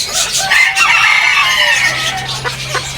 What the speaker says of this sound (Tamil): பென்டம் கோழிண்ணே